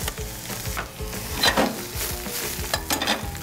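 Vegetables stir-fried with pineapple and chili peppers in a hot pan, a steady sizzle with scraping and tossing of a utensil against the metal, close and continuous.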